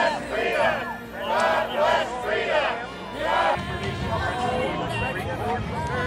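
A protest crowd in San Luis Obispo being whipped up, with loud amplified voices leading rhythmic call-and-response chanting over crowd babble, then a denser rumble of many voices.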